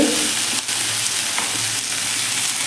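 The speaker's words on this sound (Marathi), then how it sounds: "आपण ही भेंडी तळून घेऊयात आणि हा कांदा देखील फ्राय करून घेऊयात" Okra and onion fry in a pan with a loud, steady hiss of hot oil and faint scraping stirs underneath, heard up close with no voices.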